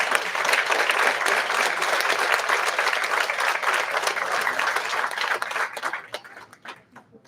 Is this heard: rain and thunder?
no